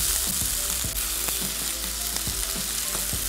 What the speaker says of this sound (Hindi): और इसको खूब अच्छे से फ्राई कर लेंगे।